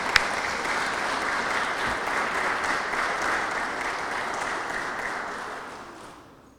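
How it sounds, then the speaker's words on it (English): A crowd gives warm, steady applause for veterans honored at a Mayor for the Day event in Waterbury, a dense wash of clapping that holds evenly and then fades out at the end. "A nice warm round of applause for our guests."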